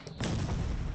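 A shotgun blast from the clay-animated video game Clodhoppers, a sudden loud boom that rings out densely to the end of the short moment.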